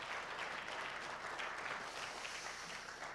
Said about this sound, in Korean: 박수로 다시 한번 환영합니다